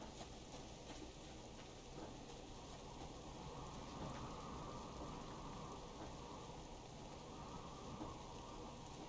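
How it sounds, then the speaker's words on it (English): Wind and rain from a storm in the survival game Subsistence, a steady dense wash of rain and gusting noise, moderately loud and unbroken, with no talking. "this wind and rain from the storm is making things extremely difficult"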